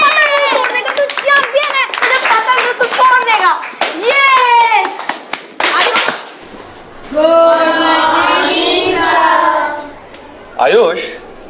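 Children's voices chatter and call out loudly in a room, with bursts of hand clapping mixed in among the speech at close range.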